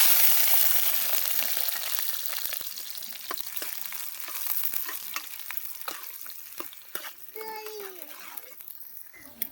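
Chopped onion pieces frying in a pan for a village-style chicken curry, a loud, hissing sizzle with scraping stirs that slowly fades, with a brief voice near the end.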